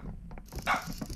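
A dog in the video game First Class Trouble gives a few short, sharp barks and yips, fairly close and moderately loud over a faint background hum.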